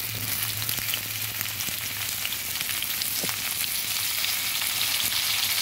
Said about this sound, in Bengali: পেঁপে আর আলুগুলো ভেজে নেব।